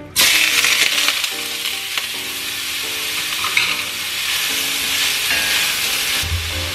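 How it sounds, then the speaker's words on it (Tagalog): Garlic, onion and whole ginger sautéing in rendered pork belly fat, a loud, bright sizzle that starts abruptly and holds steady, with stirring knocks and scrapes throughout. "Doon ko na igigisa ang bawang, sibuyas, at buong luya."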